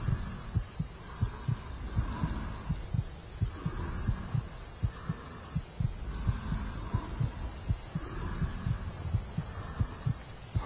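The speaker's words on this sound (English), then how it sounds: "heartbeats are coming a little bit slower." Video-game heartbeat after leaving combat, a steady low thumping pulse repeating throughout over a faint background hum, with no talk.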